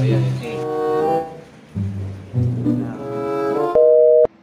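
Repeated telephone busy tones sound on a call to a friend, steady beeping pulses in a regular on-off pattern, with a louder final tone at the end and no talking over it.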